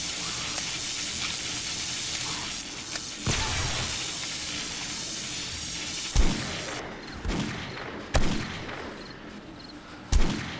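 Gunfire from a heavy-recoil weapon in the video game 7 Days To Die, with sustained dense firing and several sharp, loud individual shots near the end, close and dominant.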